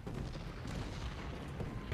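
Cannon artillery fire from the Civil War strategy game Ultimate General: Gettysburg, heard as a low, continuous rumble of distant booms blending into a dense battle background, with no distinct single shots standing out.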